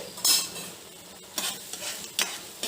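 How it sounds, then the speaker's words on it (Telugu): Tomatoes fry in a pan for a roti chutney, with a soft sizzle under sharp bursts of scraping and stirring as a utensil works against the pan, close and fairly loud, without talk. "టమాటాలు వేగుతున్నాయండి."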